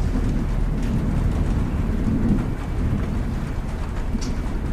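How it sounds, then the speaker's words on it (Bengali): A heavy downpour, used as a horror-story sound effect, makes a dense, continuous roar of rain with a low rumbling undertone throughout and no voices. "বৃষ্টি নেমেছে মুষলধারে।"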